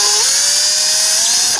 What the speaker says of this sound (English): Now I'm just going to drill 7/32 inch hole in each of the marked locations.